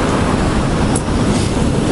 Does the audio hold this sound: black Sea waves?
yes